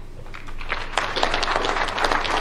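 Audience at an International Women's Day celebration breaking into applause, steady clapping that swells slightly and continues over a low hum.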